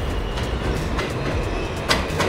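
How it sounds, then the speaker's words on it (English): An M train on the New York City subway rumbles nearby as it arrives, with a loud, continuous roar, rattling wheels and a brief metallic squeal. "Board the M train"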